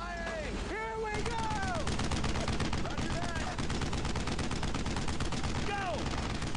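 Rapid video-game gunfire from Brothers in Arms: Road to Hill 30, a dense, steady barrage of rifle and machine-gun bursts that keeps going throughout, with bright whistling effects cutting through the clatter.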